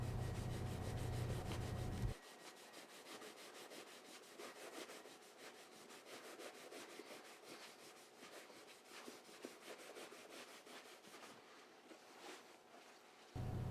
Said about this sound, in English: Hold the boot firmly between your knees and buff vigorously back and forth with your lint-free cloth.